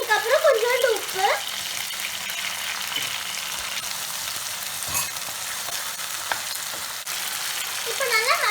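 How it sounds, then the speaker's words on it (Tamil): Ingredients for a Tamil dried fish curry (karuvattu kulambu) sautéing in a pan, a steady sizzle and frying hiss throughout with occasional stirring scrapes, and a voice briefly at the start and end. "இந்த மாதிரி நல்லா வதக்கி விட்டுக்கோங்க."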